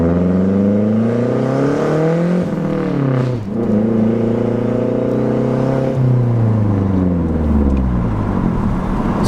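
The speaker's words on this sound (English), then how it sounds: "So you definitely can hear that blow-off vibe." A turbocharged MazdaSpeed3 with a bigger turbo and Cobb upgrades revving repeatedly up and down, loud and close, with engine pitch climbing and falling and a brief dip mid-rev, no speech.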